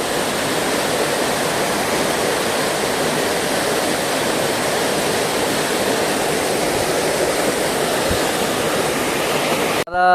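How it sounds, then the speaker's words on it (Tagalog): A waterfall of clear water plunges into a pool on a nature trip, a loud, unbroken roar heard up close for the whole stretch until it cuts off abruptly at the end. "At ito yung bagsakan ng tubig oh."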